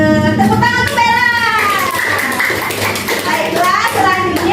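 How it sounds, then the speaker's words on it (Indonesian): Classroom applause for a pupil named Bella, a short burst of clapping mixed with children's voices and chatter. "Tepuk tangan untuk Bella."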